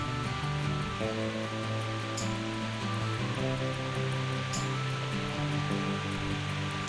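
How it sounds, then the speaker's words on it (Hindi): A waterfall spills into a resort swimming pool on Choengmon Beach, Koh Samui, giving a constant, even rush of falling water, moderately distant, with a low hum underneath and no talking. "they are having some waterfall and inside there is a cave plus waterfall"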